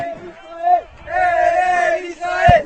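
Israeli flag football players and crowd cheer at a men's bronze-medal match of the 2019 European Championship in Israel, with loud, excited yells rising in two bursts and a sharp thump near the end.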